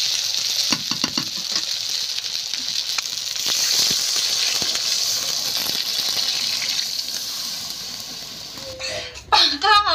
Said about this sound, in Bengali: মাংসটা কষা হয়ে গেছে, এবার জল ঢেলে দিচ্ছি।